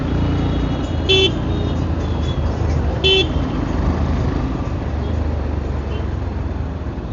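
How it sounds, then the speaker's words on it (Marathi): Busy village road traffic with a constant rumble of cars and motorcycles close by, as a car horn toots briefly twice a couple of seconds apart over the engine noise. "गावात एवढं मोठं ट्रॅफिक"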